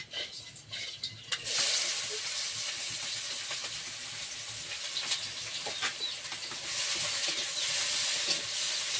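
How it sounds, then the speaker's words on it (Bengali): Fish curry simmering in leftover oil in a wok over a wood fire, a steady close hiss and sizzle with light stirring that swells loudly after a quiet start. "কড়াই যা তেল আছে ওই তেলেই রান্না করবো,"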